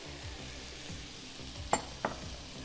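Onion, tomato and garlic cook in a pan as a base for a shrimp dish, giving a steady soft sizzle with a low rumble beneath and two sharp utensil clinks near the end.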